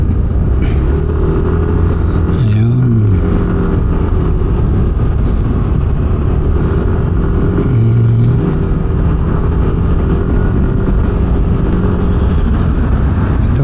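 A car drives steadily along a town street on the way to Mangaldan, its engine and road rumble loud and continuous, with a brief horn-like tone as it overtakes near a crossing pedestrian.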